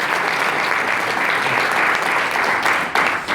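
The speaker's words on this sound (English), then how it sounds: "So round of applause to Miguel" Dense, steady audience applause at a business promotion event in Chicago fills the clip, loud and continuous from start to finish with no break.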